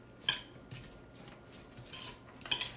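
A metal spoon clatters against a cooking pot in a kitchen where turkey smoked sausage, onions, bell peppers and cabbage are being prepared, with a few sharp, close clinks separated by quiet.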